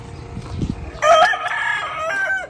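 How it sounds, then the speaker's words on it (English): A rooster crows loudly and close by in the Philippines, one long cock-a-doodle-doo that rises and then trails off, following a brief low rumble of traffic. "A rooster."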